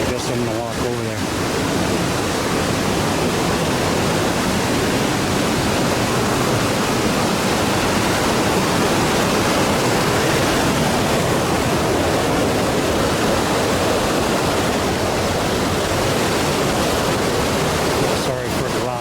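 Loud, steady roar of rushing water fills the whole stretch, broadband and unbroken, like a nearby waterfall or fast stream.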